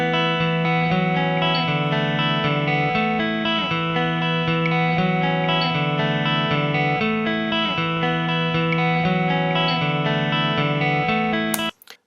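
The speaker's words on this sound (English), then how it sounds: "we'll take a listen to just the clean reverby guitar that kicks off this" A clean electric guitar, a 1970s Fender Stratocaster, strums sustained chords drenched in reverb, ringing evenly and loud throughout, then cutting off abruptly at the end.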